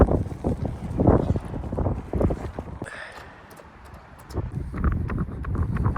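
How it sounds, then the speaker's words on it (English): Strong wind buffets the microphone in rough, uneven gusts on a running track, easing briefly before roaring back, with a few faint clatters in the background. "the wind gusts have been brutal."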